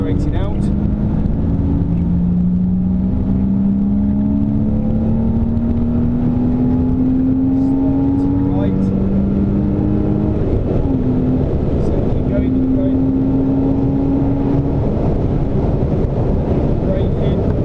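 A Renault Clio driven hard around the Silverstone circuit, its engine note climbing steadily through the gears in long rising sweeps, loud and close inside the cabin with constant wind and road roar and a driver talking over it.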